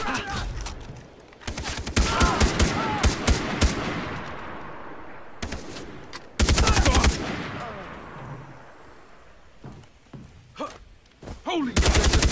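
Bursts of automatic gunfire in Far Cry 3, loud rattling volleys that start and stop in clusters, with a brief voice heard between bursts.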